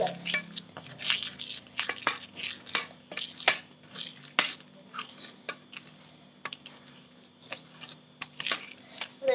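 Flour and mineral mix are stirred in a bowl, giving a steady run of close scraping and clinking strokes with a low constant hum underneath.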